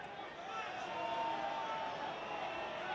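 Rugby stadium crowd at an Ulster versus Leicester European Cup match grumbling and murmuring in disapproval at an assistant referee's call, a steady broad roar carrying under a commentator's voice.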